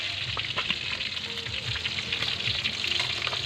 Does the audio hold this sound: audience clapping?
no